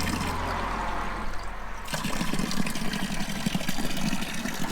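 Water running and splashing into a container as it is collected from a tap or spring in Serbia, a steady rushing flow that shifts in tone partway through as the vessel fills.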